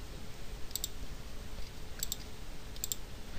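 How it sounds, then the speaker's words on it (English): Computer mouse clicks while files are picked in a PDF combining program, three small sets of quick double clicks spread over a few seconds above a soft background hiss, no talking. "I can select all three of them at once, or simply choose one and click Open"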